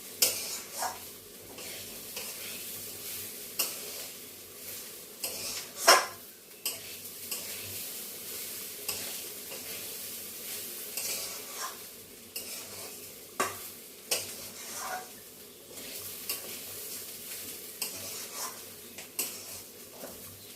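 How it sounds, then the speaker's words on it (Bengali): Rice for pulao frying in a pan, with a soft continuous sizzle and frequent scraping stirs of a spatula against the pan, some light clinks, close but fairly quiet, no talking. "এদিকে পোলাওটা একটু ভেজে নিচ্ছি চালটা ভালো করে ভেজে নিয়ে আর জল দিয়ে দেব"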